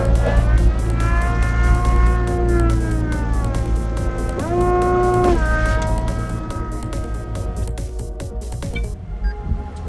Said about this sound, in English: time to put the top down